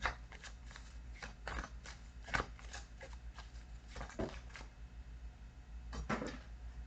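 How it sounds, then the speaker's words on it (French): A tarot card drops and is picked up from a table, giving soft papery rustles and a few light taps and flicks, all faint and close with no talking. "La carte, la carte tombée"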